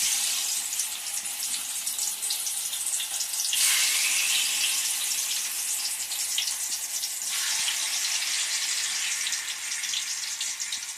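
Squeezed bitter gourd pieces drop into about 200 ml of hot oil and fry with a loud, steady hiss that swells in brief surges as more pieces go in, close by, with no talking.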